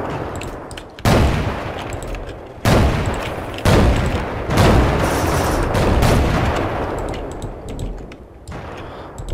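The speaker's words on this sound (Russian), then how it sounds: "А, это наши, блин, я по нашим стреляю." Loud gunfire in the video game Ravenfield, several sustained bursts of rapid shots that start abruptly, run for seconds at a time, and are broken by short pauses.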